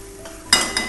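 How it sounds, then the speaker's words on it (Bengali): Kashmiri chili powder and tomato go into browned onions frying in a pan, starting a sudden loud, close sizzle surge after a brief quieter hiss, with a light utensil clink near the end. "এবার দেবো কাশ্মীরি লঙ্কার গুঁড়ো, তারপর দেবো টমেটো।"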